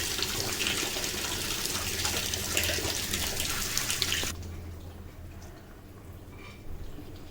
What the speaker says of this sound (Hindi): इसको अब हम पानी लगाएंगे